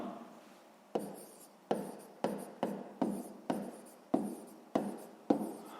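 A pen writes on paper in a quick series of about nine separate strokes, each a sharp scratchy onset fading out, spaced roughly half a second apart and heard up close in a quiet room.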